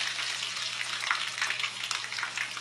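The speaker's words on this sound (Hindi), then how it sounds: "बैंगनों को हमने डीप फ्राई करना है।" Marinated eggplant pieces deep frying in hot oil, a dense, even sizzle and crackle heard up close with no other sounds.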